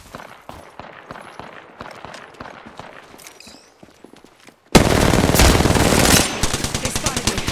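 Video game gunfire starts as scattered, lighter shots, then erupts into a sudden, loud, sustained burst of rapid automatic fire that rattles on to the end.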